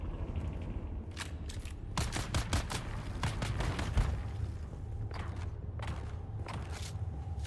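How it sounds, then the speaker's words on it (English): Gunfire in the video game Dune: Awakening comes in clustered bursts of sharp rapid cracks, moderately distant and fairly faint, with quieter gaps between volleys. "Oh, I can hear gunfire, yeah."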